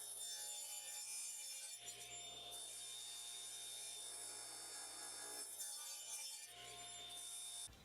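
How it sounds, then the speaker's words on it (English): A saw cutting through a wooden blank while chips are cleared, making a steady, fairly quiet rasping cut with a steady hum underneath and brief breaks in the cutting. "I'm just trying to eject the chips from the saw when you see me coming up and down"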